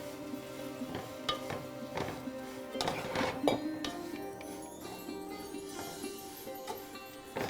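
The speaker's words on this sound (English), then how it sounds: "Let's give it a good stir." A spoon stirs a Kerala-style beef roast with spices and sliced coconut in a metal pan, giving scattered clinks and scraping knocks against the pan at close range, with no talking.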